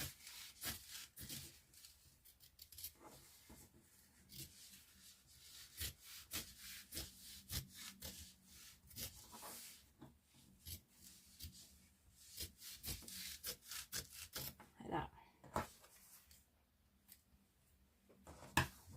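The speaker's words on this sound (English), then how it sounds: "So I just lift up the foam and I just literally just trim it away." Scissors trim away excess foam while sewing a woodland stitch project, making quiet, close snipping and rubbing strokes in a steady irregular rhythm.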